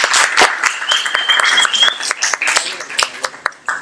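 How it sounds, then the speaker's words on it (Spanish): An audience at a Mexican ecology event applauds to welcome a speaker. The clapping is loud and uneven, with distinct individual claps and bursts rather than a smooth wash. Voices and a brief whistle-like tone mix into the applause, which thins out toward the end. "Un aplauso, por favor"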